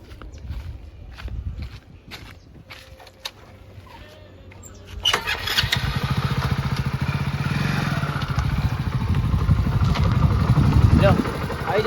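A motorcycle engine starts up partway through and then idles steadily nearby. Footsteps and people talking come before it, and talk continues over the engine.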